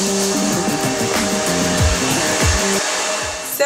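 Hair dryer fitted with a diffuser, drying natural hair, a loud steady whooshing roar with shifting low tones as it moves, then cutting off near the end.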